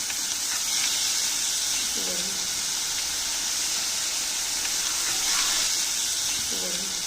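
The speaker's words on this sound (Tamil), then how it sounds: "இப்போது இதை நல்லா வதக்கிக்கலாம்." Turkey berries (sundakkai) sizzle in a hot pan, a steady bright hiss running throughout with a few faint clinks from stirring.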